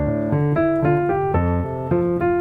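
Two bars from the start of the second line of a piano piece, played as clear separate notes and chords at a steady moderate pace, close and alone without talk.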